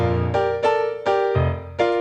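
Piano playing one measure of a song: a few struck chords and bass notes in quick succession, each ringing briefly before the next, close and clear with no talking.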